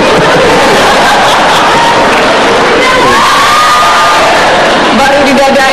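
A studio audience at an Indonesian television talk show cheers and claps loudly, a dense, continuous roar of voices and whoops filling the room throughout.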